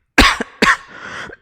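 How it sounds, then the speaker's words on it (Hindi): A man coughs twice in quick succession, close and loud, the second cough trailing into a rougher throaty rasp. "देखो खांसी हो रखी है"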